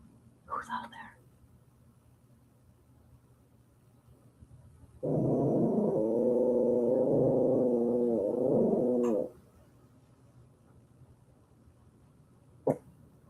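A dog, Nola, lets out a sustained low growl lasting several seconds, with a brief faint sound before it and a sharp click afterward.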